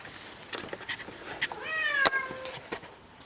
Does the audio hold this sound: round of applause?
no